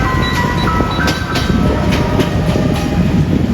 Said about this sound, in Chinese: 越南铁路的市区段，正如网红景点火车街那样，火车是直接贴着居民区呼啸而过的。